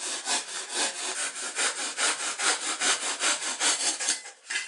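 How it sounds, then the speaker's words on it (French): A handsaw rasps back and forth in quick, even strokes through foam, close up and continuous, with no talking. "le polystyrène extrudé se coupe très facilement avec une scie"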